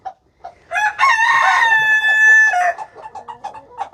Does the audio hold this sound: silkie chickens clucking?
yes